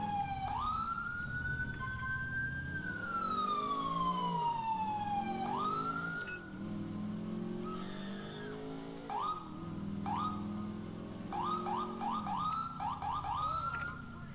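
A police car siren in the video game GTA IV with the LCPDFR mod wails in long rising and falling sweeps, then switches to rapid yelping bursts, loud and close under game engine rumble.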